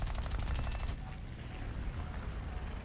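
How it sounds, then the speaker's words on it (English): Machine guns of an F4F-3 Wildcat fighter fire in a rapid burst during a video game dogfight over the Pacific, a dense, loud stutter for about one second that gives way to steady engine and wind noise. "I start firing, and after all that, it's not too hard to kill him."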